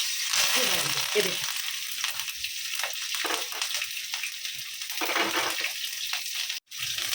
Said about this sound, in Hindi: तेल गरम हो गया, लहसुन डालेंगे